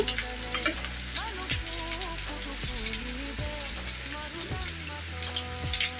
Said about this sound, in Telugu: ఇంకొక వైపుకి స్లోగా ఇలా తిప్పుకుంటూ ఫ్రై చేసుకోండి